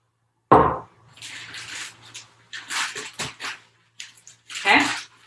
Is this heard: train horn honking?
no